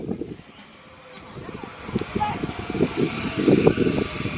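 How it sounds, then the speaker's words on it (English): Wind gusts buffet the microphone outdoors while a DJI Mavic Pro drone flies, producing rough, fluttering low rumbles that swell toward the end, with faint voices in the background. "Whoa, it's the wind."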